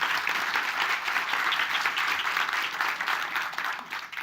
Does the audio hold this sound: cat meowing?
no